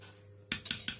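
A spoon clinks against a bowl while small portions of pumpkin pastry dough are scooped out, three or four quick, bright metallic taps close by.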